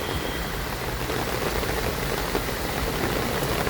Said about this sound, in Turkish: Şimdilik yağmur biraz zayıfladı.